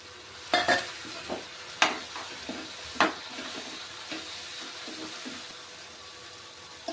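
Onions fry in a pan for a capsicum curry, with a soft sizzle underneath and sharp spatula clatters and scrapes against the metal at irregular intervals, close and fairly loud, no voices.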